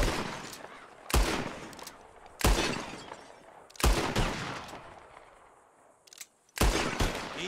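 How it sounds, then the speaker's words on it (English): Gunshots ring out during a bottle-shooting contest in Red Dead Redemption 2: several loud, sharp revolver reports come at irregular intervals, each followed by a long reverberating tail, with a quieter crack between them. "Whoever shoots more of these bottles wins."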